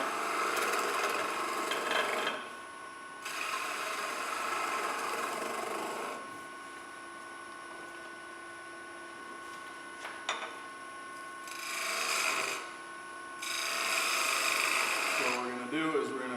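A wood-turning lathe makes a parting cut at a woodturners' demonstration, giving repeated scraping, rasping bursts of tool on spinning wood separated by quieter stretches of the machine running, close and moderately loud.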